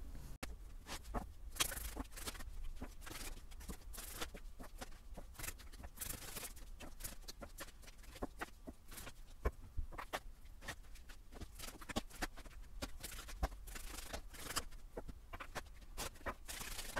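Tarot cards being shuffled and drawn: quiet, steady riffling and soft flicking patter of cards, close and faint, with no talking.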